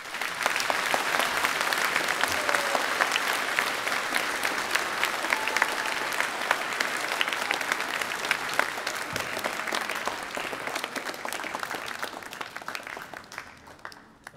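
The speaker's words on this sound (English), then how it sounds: "Let's give them a round of applause." An audience at a school Veterans Day program breaks into sustained applause, a dense, even wash of clapping that holds steady for about twelve seconds and then tapers off at the end.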